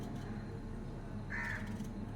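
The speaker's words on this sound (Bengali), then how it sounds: "কি সুন্দর দেখুন পাখিটা ডাকছে" A crow caws once, a short harsh call at moderate distance, over a quiet low background hum.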